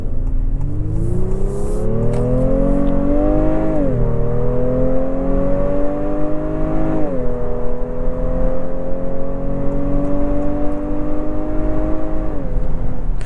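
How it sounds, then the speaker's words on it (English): A 2025 Honda Pilot Black Edition in sport mode revs its VTEC engine hard. The loud, close engine note climbs through the gears in repeated rising pulls, with brief drops at each shift and no talk over it. "That VTEC sound just sounds so good."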